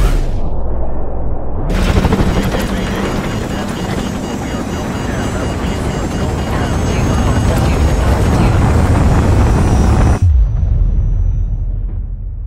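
Call of Duty Modern Warfare Remastered combat: an incoming missile and heavy gunfire swell into a loud, sustained roar of explosions and rapid shots for about eight seconds, then cut off abruptly, with voices heard in the mix.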